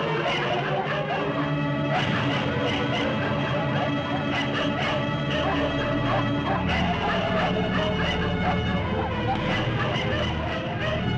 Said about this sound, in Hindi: तेरे निमंत्रण पे कुत्ते ही आए हैं